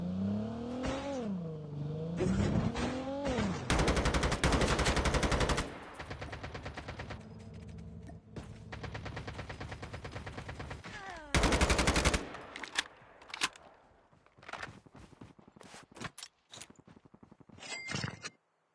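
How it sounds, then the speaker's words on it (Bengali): Gunfire in Call of Duty: bursts of rapid automatic shots in long dense runs, separated by revving vehicle engine sounds and scattered single cracks, with players talking over the action. "ও মা, গুলি করছে যে"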